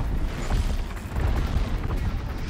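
Rumbling blasts and crackling fire fill a loud, dense stretch during combat in Horizon Zero Dawn, low booms rolling continuously without voices.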